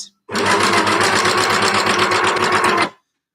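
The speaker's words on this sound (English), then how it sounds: "These new Genome overlockers that we've got are a little bit quieter than the old ones" A Genome overlocker sewing machine stitches jersey fabric at default stitch length and width, a steady close-up mechanical whir running for about two and a half seconds before stopping abruptly, with no talking.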